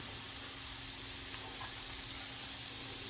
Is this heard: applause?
no